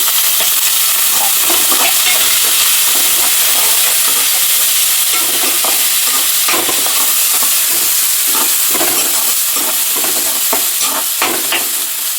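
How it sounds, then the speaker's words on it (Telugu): Chopped onions and green chillies fry in hot oil with tempering spices for a palak and tomato curry: a loud, constant sizzle close up, broken by repeated scraping clicks of stirring, with no talking. "ఇప్పుడు ఆనియన్స్ పచ్చిమిర్చి కట్ చేసి పెట్టాను కదా, అది వేసుకోవాలి"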